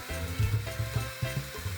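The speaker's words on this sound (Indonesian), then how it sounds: "masukkan ikan gurame yang udah dimarinasi ke dalam wajan" Marinated gourami fish fries in hot oil in a wok, giving a short burst of close, busy sizzling with a few pulsing swells.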